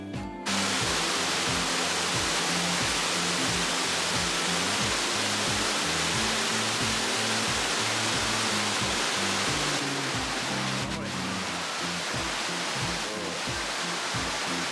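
A seven-metre waterfall, Heikake Falls in Yahaba, Iwate, Japan, roars as a loud, continuous rush of water, broadband and steady throughout.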